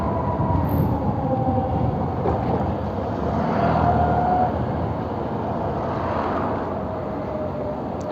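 An Ather 450X electric scooter riding in sport mode, a steady broadband road and wind rush with a faint rising motor whine, continuous and fairly loud throughout.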